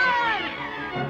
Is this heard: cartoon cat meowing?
yes